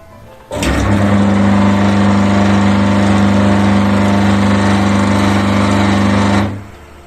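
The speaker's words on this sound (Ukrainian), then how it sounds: "Як бачимо, двигун працює нормально" A Donbas washing machine motor, whose agitator does not spin, switches on abruptly and runs at a steady, loud electric hum for several seconds, then cuts off and winds down.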